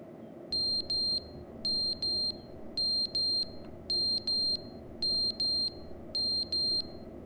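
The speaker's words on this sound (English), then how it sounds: "What is the beeping?" Electronic alarm in the video game The Stanley Parable, sounding as pairs of sharp high beeps repeating in a steady rhythm over a low background hum.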